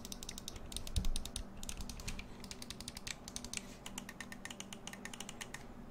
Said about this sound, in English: Almost all of the buttons from this controller, they sound like mouse click.